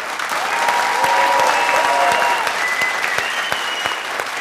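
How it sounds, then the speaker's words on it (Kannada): A studio audience at a game show bursts into full, sustained applause. The clapping stays dense and even, then thins slightly toward the end. "ಎನಿವೇಸ್ 3 ಲಕ್ಷ ಗೆದ್ದು ನಮ್ಮನ್ನೆಲ್ಲ ಇಷ್ಟೊತ್ತು ಎಂಟರ್ಟೈನ್ ಮಾಡಿದ ಜೆಕೆಗೆ ದೊಡ್ಡ ಚಪ್ಪಾಳೆ"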